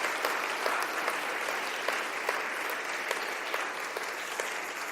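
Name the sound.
church congregation applause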